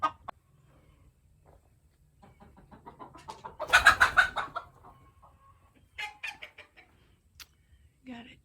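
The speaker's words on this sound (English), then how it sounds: "Got a chicken in there laying." A hen in a nest of shavings clucks while laying, with a series of soft, low clucks that rises to a louder burst of cackling near the middle, then fades to sparse, quiet clucks close by.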